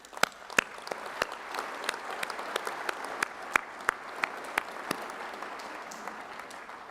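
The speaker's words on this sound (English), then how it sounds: "So let's give them a round of applause." Applause from a commencement audience at a School of Pharmacy graduation ceremony, honoring graduates' loved ones: a steady wash of many hands clapping with sharp individual claps popping out, sustained and moderately distant throughout.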